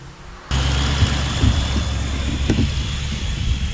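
Pickup truck starting up and pulling away, a sudden loud engine onset followed by a steady, rumbling drive with a brief sharp knock partway through, close by and without talk.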